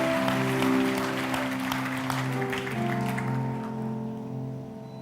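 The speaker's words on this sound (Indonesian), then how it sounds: "Berikan tepuk tangan kita untuk Tuhan kita." Congregation applause during an online church worship service, a steady wash of clapping lasting several seconds over sustained organ or keyboard chords, gradually tapering off toward the end.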